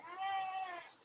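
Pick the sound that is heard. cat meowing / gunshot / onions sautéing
cat meowing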